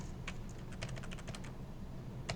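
Rapid clicking keystrokes on a computer keyboard, a quick irregular burst of taps close by, fairly quiet and with no voices.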